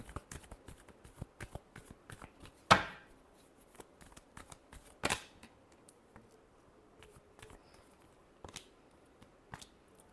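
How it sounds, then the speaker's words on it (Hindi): Tarot cards are shuffled by hand in soft, close riffles and taps, scattered across a quiet room with a couple of sharper slaps of the deck. "Last shuffle."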